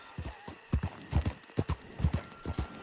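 A horse with a rider walks nearby, its hooves making a steady clip-clop of paired, fairly close strikes on hard ground with a faint background hum.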